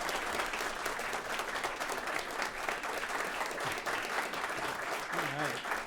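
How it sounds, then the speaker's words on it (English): Audience applause at a live climate and food podcast recording on stage, a steady dense clapping from a crowd lasting throughout, with a voice briefly audible near the end. "And then applause for Mike Grunwald and Tamar Haspel of Climavores."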